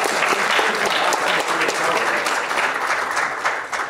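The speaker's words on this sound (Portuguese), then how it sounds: "Tem que dar uma salva de palmas." A live audience at a political talk bursts into sustained, dense applause that holds steady throughout, loud and close, with no voices standing out.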